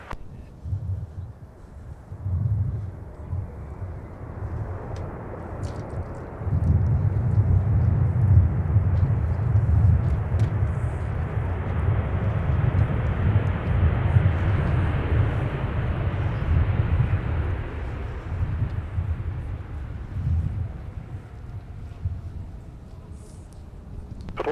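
An airplane at Minneapolis–Saint Paul airport produces a broad roar that swells and then slowly fades over about fifteen seconds, heard at middle distance with some wind noise.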